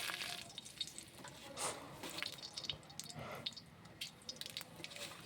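Spices such as bay leaf, dried chillies and five-spice tempering in hot oil for a cabbage dish, a faint, uneven crackling sizzle with scattered pops, no talk.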